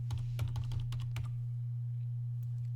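Rapid keystrokes on a computer keyboard during a Debian 10 Buster install in VirtualBox, a quick burst of clicks for about a second and a half before falling quiet over a steady low hum.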